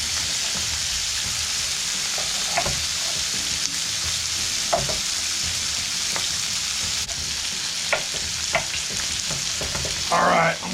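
Meat frying for jambalaya crackles in a hot pan under a constant loud sizzle, with occasional scrapes and knocks as it is stirred close by.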